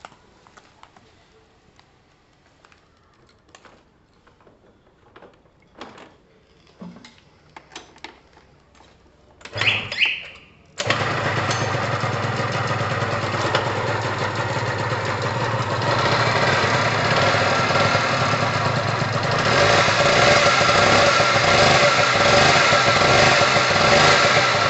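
A Pulse Force 50cc GY6 scooter after a brake service starts up on its first test ride following a few quiet knocks and handling sounds, then runs loud and steady, its engine note rising toward the end.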